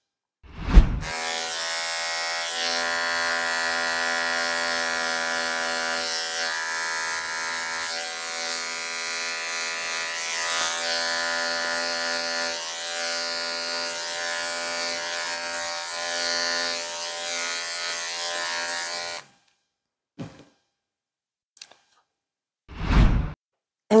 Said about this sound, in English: I may flick it off with the number 10 with my clipper